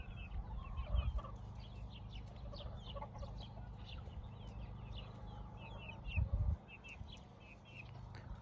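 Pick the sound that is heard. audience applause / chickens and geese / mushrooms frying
chickens and geese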